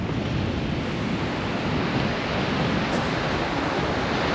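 Surf washing onto a small beach near Porto and Piana on the Corsican coast, a steady broad roar of waves close by with light wind rumbling across the microphone, no voices.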